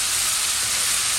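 Shrimp sizzling in a hot pan, a steady bright hiss of frying with no pauses, close and even in level throughout.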